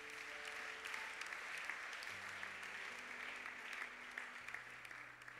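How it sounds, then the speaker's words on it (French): A church congregation applauds and cheers in praise of the Lord, steady dense clapping filling the room throughout, with a sustained tone from an organ or keyboard beneath. "Est-ce que nous pouvons acclamer le Seigneur?"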